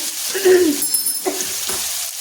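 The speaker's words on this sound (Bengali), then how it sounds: "এখন আমি আলুগুলো ভেজে নেব।" Potato pieces fry in hot oil with a little salt for a cabbage dish, a moderate sizzle with spoon stirring and clinks close by, and a faint voice-like tone briefly in the background.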